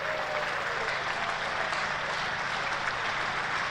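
A cricket crowd at a Hampshire versus Kent match applauds James Vince's double hundred, a steady wash of clapping heard from a distance that holds evenly throughout.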